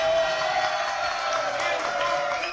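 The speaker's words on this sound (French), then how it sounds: "Applaudissements." Studio applause on a French radio show sounds as a steady wash of clapping and crowd noise, moderately loud for a few seconds.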